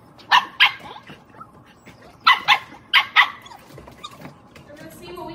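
A reactive 4-year-old female German Shepherd barks in sharp, close bursts, about six barks falling in quick pairs with short pauses between them.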